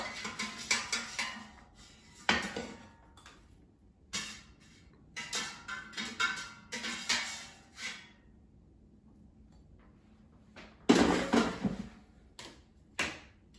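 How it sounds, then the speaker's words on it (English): Cooked asparagus being lifted out of an air fryer, with a series of close, sharp clatters and clinks of basket, tongs and dishware in short bursts separated by quiet pauses. "So now let me take it out of the air fryer."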